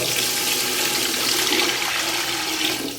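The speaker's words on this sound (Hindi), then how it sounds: "हम इसमें 2 जग पानी ऐड करेंगे" Water pours from a jug into a cooking pot while beef paya is being made, a loud, steady gushing splash that runs unbroken and tapers slightly at the end.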